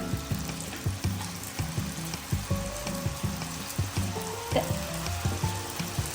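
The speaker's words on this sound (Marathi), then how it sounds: "बासमती दावतचा राईस घेतला आहे जो 15-20 मिनिटं भिजत ठेवला होता आणि तो आता आपण या उकळत्या पाण्यात टाकूया" Soaked basmati rice going into boiling water with cumin and salt for a veg biryani at home, giving a steady, close sizzling bubble with regular stirring knocks from the pot.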